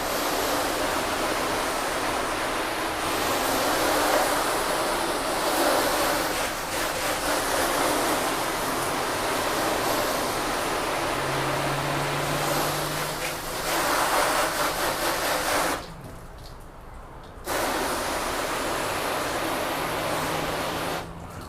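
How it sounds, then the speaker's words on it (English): Garden hose spraying a steady broadband stream of water onto a car to rinse it during a spray sealant test, continuous and fairly close, with a brief pause in the flow near the end before spraying resumes. "I'm just going to use the hose and give it a rinse"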